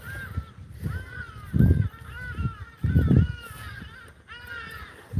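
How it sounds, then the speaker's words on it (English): Hadeda ibises in South Africa call repeatedly with loud, harsh honking cries in several overlapping bursts, fairly close, over a low rumble of outdoor and vehicle noise. "And there's those hardy-daws again."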